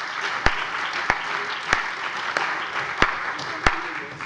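Steady applause fills a state parliament chamber during a plenary session, with sharper, louder claps landing in a regular rhythm about every two-thirds of a second.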